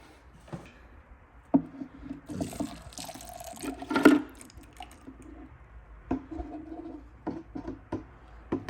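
Water pours out of a Bissell Little Green Pet Pro carpet cleaner's dirty-water tank into a container, a soft, uneven splashing and trickling with a few louder gushes and clunks, fairly close.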